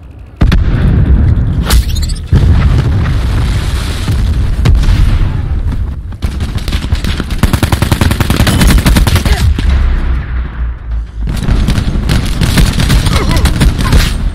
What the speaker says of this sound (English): Cluster grenade. Enjoy.